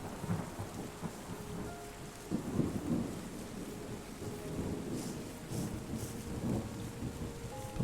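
Steady rainfall with several low rolls of thunder in the video game Terra Nil, the storm filling the whole stretch at moderate level with no talk.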